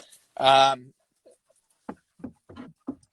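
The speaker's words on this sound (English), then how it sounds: "I've got a dog who really wants to join." A dog lets out one loud, drawn-out whimper up close, then gives a few short, soft panting breaths in an otherwise quiet room.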